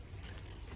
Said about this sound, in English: One here is a sort of rattly crankbait called the Svartsonka